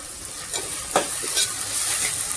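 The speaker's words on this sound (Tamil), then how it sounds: "நல்லா வதங்கணும் தக்காளி." Tomatoes sauté in a pan for vada curry, a steady close sizzle broken by several scraping stirs of a spoon.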